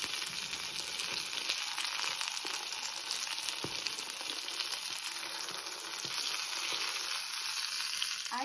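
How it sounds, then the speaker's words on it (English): Ukrainian stuffed buns, pyrizhky filled with cherry or cabbage, fry in oil in a pan with a steady, close, hissing sizzle and a few faint knocks, heard alone without talk. "Here how I fry пиріжки."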